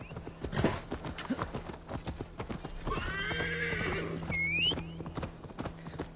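A horse in the Assassin's Creed Valhalla video game trots with rhythmic clip-clopping hooves, then lets out a loud, drawn-out neigh partway through, the hoofbeats continuing around it.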